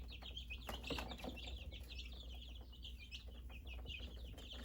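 Two-week-old chicks in a cage cheep in a steady stream of high, overlapping peeps, close and moderately loud over a constant low hum.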